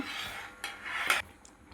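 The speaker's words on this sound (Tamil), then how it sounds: "அப்பப்போ இடையில இடையில கிளறி விட்டுக்கலாம்" A spoon scrapes and knocks around inside a metal pot of barnyard millet payasam in a few short strokes, close and fairly loud, no talking.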